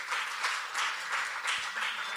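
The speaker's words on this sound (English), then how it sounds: "Let's have a big round of applause." Applause from a tech conference audience, a steady patter of many hands clapping at moderate distance, swelling in soft waves for about two seconds with no voices over it.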